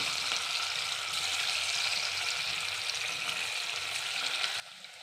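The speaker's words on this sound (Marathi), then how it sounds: "आता आपण हे तळून घेऊ" Coriander mutkule (kothimbir dumplings) sizzle steadily in hot oil in a kadai over a low gas flame, a dense, close frying hiss that holds evenly before dropping off sharply near the end.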